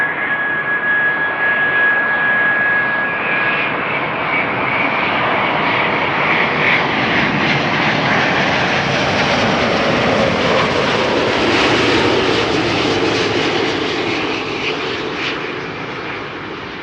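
A Delta Airlines Airbus A330neo at Amsterdam Schiphol, arrived from Atlanta, gives a loud, continuous jet engine roar that swells and holds steady, then eases slightly near the end.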